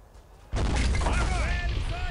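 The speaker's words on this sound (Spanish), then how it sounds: "El misil cae en 3," A missile strikes in the war strategy game Men of War: Assault Squad, giving an abrupt, loud boom that carries on as a thick rumble with crackling debris to the end.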